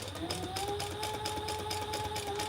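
A sewing machine runs steadily with purple variegated thread, stitching around a small project with D-rings, its rapid, even needle rhythm faint and continuous throughout.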